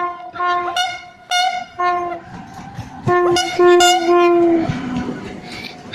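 A passing train sounds its horn in several loud, sustained blasts of varying length over about six seconds, with rail rumble underneath and no talking.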